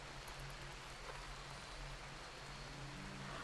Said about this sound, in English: All the rain's coming in now.